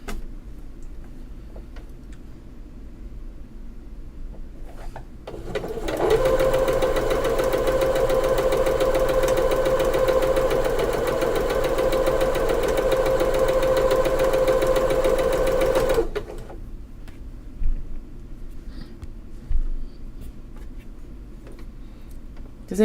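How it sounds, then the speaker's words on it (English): A sewing machine stitches quilt pieces at a higher speed, with a steady, close mechanical whir lasting about ten seconds between quieter stretches of faint room noise. "So I turned up the speed a little bit on my sewing machine."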